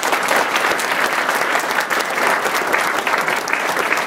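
Loud, continuous audience applause at a museum panel event, thick even clapping from many hands lasting several seconds without letup.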